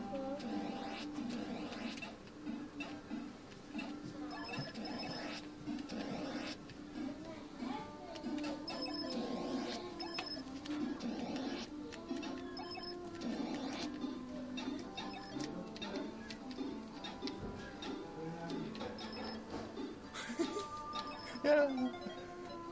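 Atari 2600 Demon Attack game audio plays steadily throughout, a continuous run of bleeping electronic tones, ticks and buzzy low drones at moderate level, with no talk over it.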